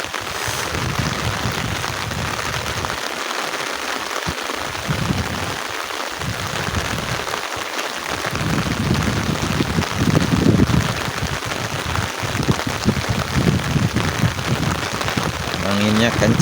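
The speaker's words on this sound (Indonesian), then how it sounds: "Wow, hujan kesini makin deras nih sahabat nih" Heavy morning rain pours steadily over a Sundanese village in West Java, a dense hiss of drops drumming on surfaces, with faint voices now and then underneath.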